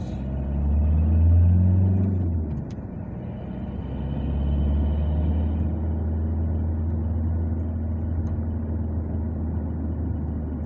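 A car drives past close by as an industrial area's road rumbles loudly, the engine swelling and fading over several seconds with no talk.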